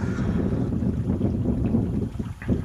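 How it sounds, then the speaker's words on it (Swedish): Gusty wind buffeting the microphone while casting for fish in a river valley, a steady low rumbling roar with no speech. "Besvärlig vind att kasta i."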